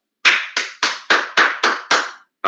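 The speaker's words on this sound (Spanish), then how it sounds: "Aplauso para ese colega" Applause for a student in an electrical engineering class: one person claps eight times in a steady, even beat, sharp and close, with no other sound.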